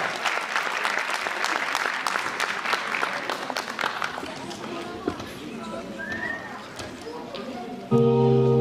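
An audience applauds a stage show with dense, sustained clapping that thins out over several seconds before a brief musical tone enters at the end.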